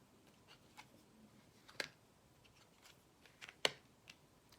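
Tarot cards being shuffled by hand, faint and close, with soft riffling and a couple of sharper snapping clicks as the cards fall together, in an otherwise quiet room.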